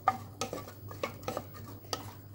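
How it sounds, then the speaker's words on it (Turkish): Onion, carrot and green pepper stirred in oil in a pot, a spoon scraping and clinking against the pot in a few short strokes, faint and close with a low background hum. "Hepsini bir güzel kavuralım."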